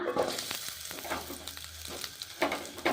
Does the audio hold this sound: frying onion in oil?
yes